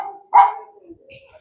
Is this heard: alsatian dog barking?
yes